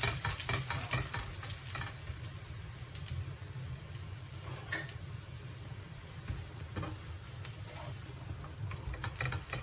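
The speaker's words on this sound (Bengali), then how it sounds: "এবার এর মধ্যে আমি একটু তেল দিয়ে দেবো, ভেজে নেবো।" A moong dal paratha frying in a mix of oil and ghee on a flat pan, a soft, low crackling sizzle with light patters, fairly faint and continuous with no speech.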